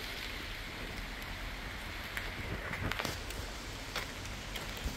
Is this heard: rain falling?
yes